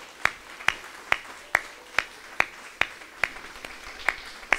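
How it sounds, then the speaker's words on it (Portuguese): A church congregation claps in a slow, even rhythm, about ten crisp claps evenly spaced over a few seconds, fairly quiet and with no talking. "Você pode aplaudir a Jesus."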